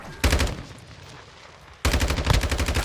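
Lachmann-556 assault rifle, an HK33 pattern, firing in a video game: two rapid automatic bursts, the first brief, then a longer string of close, loud shots after a short gap.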